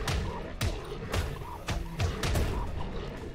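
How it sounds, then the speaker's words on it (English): Bomb blasts in the video game Gone Viral arrive as a series of heavy thuds and bursts, roughly six spaced impacts over a steady game background, moderately loud. "Oh, okay, so that was a bomb."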